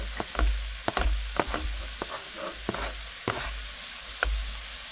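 Minced meat nearly browned sizzles in a pan with onion and garlic, a soft continuous frying hiss broken by irregular scraping clicks of a utensil stirring, close and fairly quiet.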